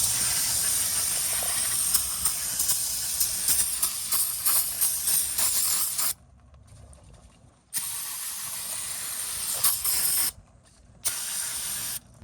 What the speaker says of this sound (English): I'm gonna make sure I clean this out with some brake cleaner